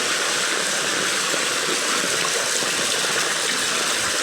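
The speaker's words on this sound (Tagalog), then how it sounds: "Baha na naman." Flood water rushes and gushes steadily, a dense, loud, unbroken wash of flowing water close by with no voices.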